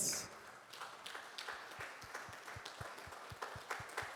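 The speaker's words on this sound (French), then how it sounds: "Can you clap for the Lord?" A church congregation claps along during a sermon, with sharp claps in a steady rhythm that grow slightly louder, while voices murmur underneath.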